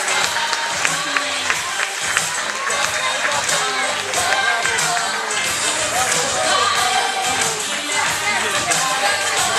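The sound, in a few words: audience applauding at fashion show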